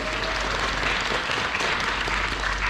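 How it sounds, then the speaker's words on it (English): Sustained audience applause at a comic con Q&A panel, a dense steady patter of many hands filling the room at moderate volume with no break. "applause"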